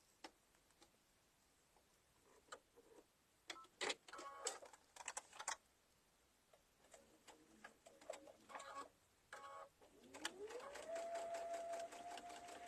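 A home sewing machine running with bobbin thread on a pumpkin bag, starting in faint ticks and short clattering bursts, then settling into a steady rising whir near the end, fairly quiet and close.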